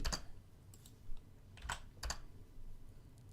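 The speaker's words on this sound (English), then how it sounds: "Let me type that." Computer keyboard typing during a live online Q&A session, a few quick bursts of clicky keystrokes with short pauses between, close and fairly clear, with no talking.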